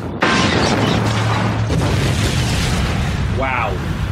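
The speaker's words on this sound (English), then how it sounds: "We spent all 5 pence of our budget on that one explosion." A film explosion sound effect erupts suddenly and loudly, then trails off as a long, dense roaring rumble with crackling debris that lasts several seconds; a brief voice-like sound appears near the end.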